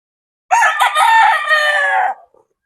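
On a farm, a medium-size chicken kept under lights lets out a single loud crow, close by and lasting nearly two seconds, with silence before and after.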